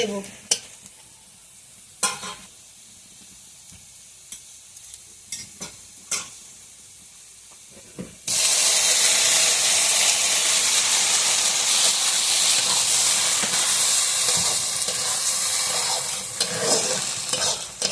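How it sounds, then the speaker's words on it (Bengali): Cooked lentils hit a hot pan of onion, garlic and ginger fried until reddish for a Bengali village-style curry, setting off a loud, steady sizzle after quiet clinks and stirring taps beforehand. "পেঁয়াজ রসুন আদা লাল লাল করে ভেজে নেওয়া হয়ে গেছে এখন আমি ডালটা ঢেলে"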